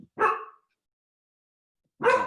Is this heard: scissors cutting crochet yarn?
no